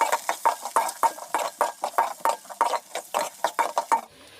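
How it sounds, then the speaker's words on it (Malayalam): Chopped onions with mustard seeds are sautéed in a pan, with a spoon scraping in quick, regular strokes. The stirring is close and brisk until it stops just after four seconds. "ഈ ഉള്ളിയാ ഇനി അതോടെ നല്ലപോലെ വഴറ്റി കൊടുക്കണം."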